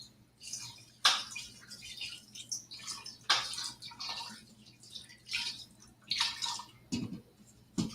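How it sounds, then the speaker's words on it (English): Shoyu sauce poured over chicken in an Instant Pot, giving wet splashing and dripping in uneven bursts, close and moderately loud, with a low steady hum underneath. "we're going to pour this over our chicken, making sure that you get it all"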